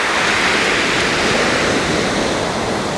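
Steady broadband rush of surf washing in close by, a continuous roar with no voices.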